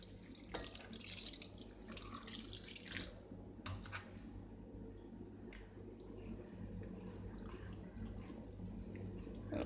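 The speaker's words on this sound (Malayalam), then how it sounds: "നമുക്ക് പാൽ ഒഴിച്ചു കൊടുക്കുക." Milk is poured into vattayappam batter, a soft, quiet liquid trickle with small splashy bursts early on and low background hum.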